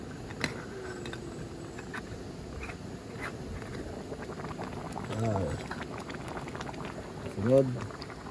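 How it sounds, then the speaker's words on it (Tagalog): Rice in a pot bubbles at a low, steady boil while van camping, with faint clinks and a couple of brief voices or sounds rising over it. "Kumukulo na pala yung kanin natin."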